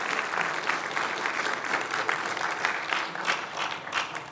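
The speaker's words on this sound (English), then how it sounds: "please give applause for the National Assembly members who have joined us" An audience at an international forum on Korea applauds visiting National Assembly members, a steady, moderately distant patter of many hands clapping in a large hall with no talking over it.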